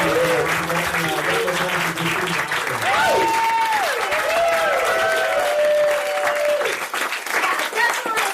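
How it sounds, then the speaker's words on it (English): A theater audience at a storytelling game show applauds in a sustained, steady round, with cheers and whoops rising over the clapping and voices calling out in the crowd. "how about a round of applause for all the storytellers?"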